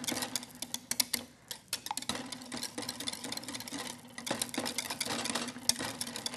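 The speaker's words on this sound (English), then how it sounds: "I'm going to whisk up these eggs" Eggs are whisked by hand in a bowl, a quick run of light clicking, tapping strokes at close range, fairly quiet and uneven in rhythm with brief pauses.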